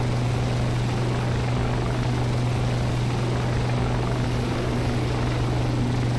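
A Shergood S/H92 helicopter winds down, its twin engines and rotor holding a steady, loud low drone with a constant hum that stays even throughout, with no voices.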